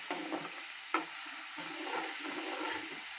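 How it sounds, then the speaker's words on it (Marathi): Green chilies fry in hot oil, a constant close sizzle with soft stirring scrapes and one sharper clink of a utensil, and no talking. "मिरची तेलात चांगली फ्राय होऊ द्यायची"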